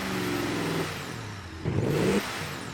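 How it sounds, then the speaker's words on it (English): A simulated car engine in the Automation/BeamNG driving game revs in short bursts, a steady drone that dips and then surges again, loud and close with no talk over it. "I don't usually listen to an engine that much."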